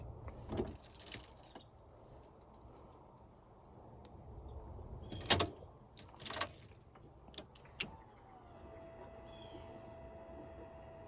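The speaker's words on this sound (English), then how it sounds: "Fuel pump's running." Fuel pump on an LS-swapped E46 BMW with a Holley Terminator X running after the ignition is cycled, a faint steady whine emerging after keys jangle and a few clicks near the car.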